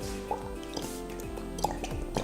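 Glue pours from a bottle into a container while slime is being made, giving thick, wet drips and soft squishy plops at an uneven rhythm, close and clear over a faint hum, with no talk.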